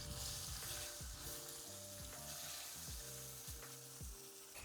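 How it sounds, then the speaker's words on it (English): Meat searing in a pan with butter, giving a soft, steady sizzle and crackle with a few faint clinks, quiet and close. "I'm going to put in a nice big knob of butter. Look at that sear."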